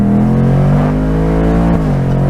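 A 2024 Ford Mustang 5.0 V8 convertible revs loud and close, a deep rumbling engine note with rising harmonic tones that swell and dip briefly as the throttle is worked.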